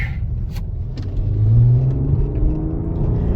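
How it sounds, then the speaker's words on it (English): A high-mileage Chrysler 200 pulls hard at full throttle, its mid-pitched engine note rising and swelling loudest midway, then droning on steadily without a downshift, heard from inside the car with no talking. "I am foot to the floor there, and it chose not to downshift."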